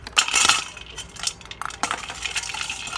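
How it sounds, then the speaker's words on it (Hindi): Ice cubes drop into a glass of Ramadan sharbat, a handful of bright clinks and clatters close by, a dense cluster at the start followed by scattered individual chinks. "बर्फ डाल लेंगे"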